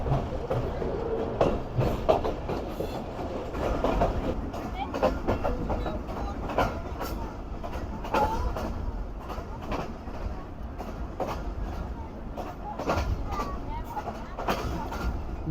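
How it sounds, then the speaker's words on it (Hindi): Rehman Baba Express train switching tracks onto the loop line at Bandi railway station in winter, with continuous rumbling and rattling wheel clatter under repeated clicks over points, heard from on board with people talking throughout. "मज़ेदार ट्रैक साउंड के साथ ट्रेन हमारे लूप लाइन पर आ चुकी है बांदी रेलवे स्टेशन की।"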